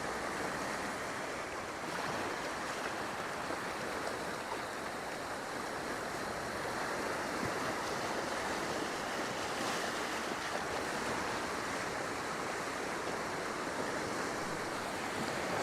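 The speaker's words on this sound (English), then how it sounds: "The waves have definitely died down a bit." Ocean waves break on a rocky point after a storm cell. The surf makes a continuous broadband wash and roar, steady and moderately distant, with wind buffeting the microphone and no voices.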